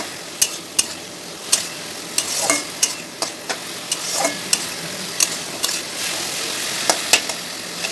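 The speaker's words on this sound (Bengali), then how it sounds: "এবার এই পেঁয়াজ কুচির সাথে পেঁয়াজ বাটাটা ভালো করে নেড়ে নিতে হবে।" Chopped onion and onion paste frying in a pan for chicken curry, a constant sizzle broken by repeated sharp scrapes and knocks of a spatula stirring at a steady pace.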